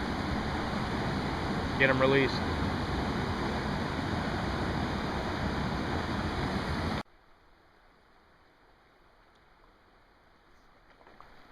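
A waterfall pours into a deep scour hole on a trout stream, a loud, steady broadband rush with a brief voice over it. The roar then drops abruptly to a quiet background.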